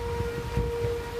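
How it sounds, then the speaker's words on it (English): Tornado sirens wail with a steady, unbroken tone outdoors during a tornado chase, while strong wind thrashes the trees and a low rumble runs underneath. "the tornado sirens are going off."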